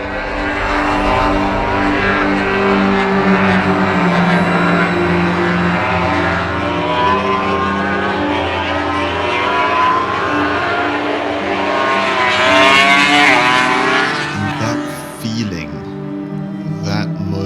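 MotoGP racing motorcycles scream past in a steady high-revving roar with rising and falling engine pitch, peaking in a loud sweep near the end, mixed with a voice.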